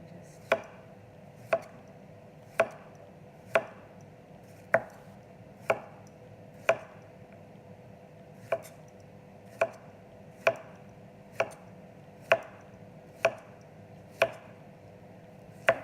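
A knife slicing zucchini into rounds about 4 to 5 millimetres thick on a cutting board, sharp evenly spaced chops roughly once a second, close and clear with a quiet background and no speech.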